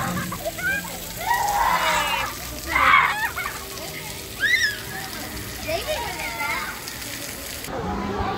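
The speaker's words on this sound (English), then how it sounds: "Little splash park over here." Children play and squeal amid spraying, splashing water at a splash park in Seuss Landing at Universal Orlando, bursts of high voices rising over a constant hiss of water jets nearby.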